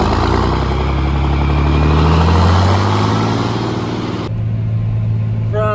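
A swather engine running on a hay field, loud and close, a steady heavy drone whose pitch climbs slowly before settling into a lower, even note near the end.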